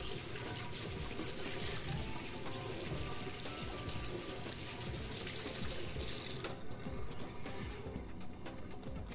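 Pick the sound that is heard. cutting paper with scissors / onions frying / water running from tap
water running from tap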